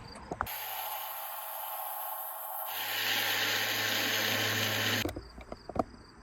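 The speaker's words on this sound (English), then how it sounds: "Time to take the sander and smooth everything out and make it straight." A power sander hums steadily against body filler on a Cummins truck's bodywork, grows louder and harsher partway through as it bears down, then cuts off and leaves a few clunks of handling.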